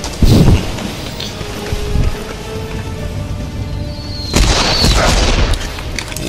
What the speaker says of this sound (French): il m'a envoyé une grenade